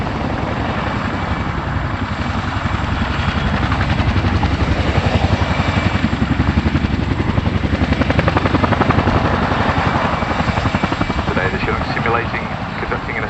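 Chinook twin-rotor helicopter at the Cosford air display, a loud, steady rotor thump with rhythmic blade chop and turbine whine holding close and constant throughout, with voices talking underneath.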